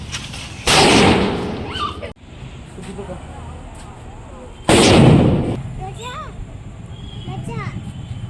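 Two loud Lakshmi bomb firecracker blasts during Diwali a few seconds apart, each with a booming burst that decays slowly, while voices chatter in the background.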